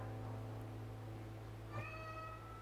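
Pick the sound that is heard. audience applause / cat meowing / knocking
cat meowing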